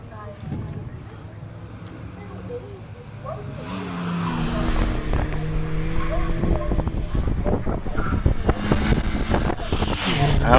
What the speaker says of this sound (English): we have Richard Greenwood in the Renault Twingo GT. He's already making his way up into Quarry